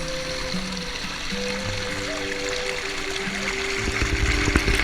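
Clear water fed by underground aquifers and trickles from a tabletop plateau in Australia's Northern Territory flows and splashes in a pool, a steady close rush with some tonal sounds layered over it.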